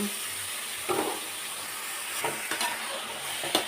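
Beetroot tossed into onions frying in a pan, bringing a continuous close sizzle and hiss with a few brief stirring bursts, heard alone without voices.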